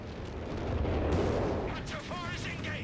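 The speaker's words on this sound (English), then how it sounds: "Another artillery barrage here in the middle, going to drive this Sturmpanzer back." An artillery barrage in the Company of Heroes 3 strategy game: deep, rolling booms and rumbling detonations blend into a continuous, loud roar, with brief whistling tones near the end.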